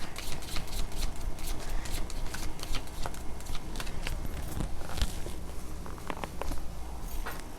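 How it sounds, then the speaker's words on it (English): Tarot cards flip and scatter out onto a floor during shuffling, making a run of quick papery slaps and riffles at close range, with no talking. "the cards are flipping out on the floor."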